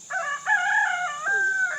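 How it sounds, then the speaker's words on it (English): A rooster crows nearby, loud, drawn-out calls overlapping, clear and alone with no talking. "sorry about the roosters"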